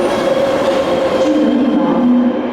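A London Underground train sits in a station, its steady rumble and hum loud and continuous with a tonal whine that shifts partway through, no voices heard.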